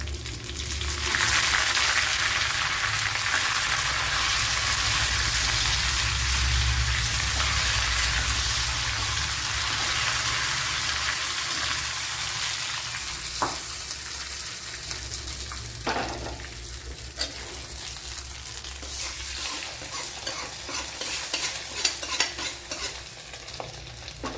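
Dried red chilies and curry leaves hit hot oil over browned onions for a Kerala aviyal tempering, a loud crackling sizzle that bursts at first, then settles into a softer hiss with occasional pops and stirring clinks.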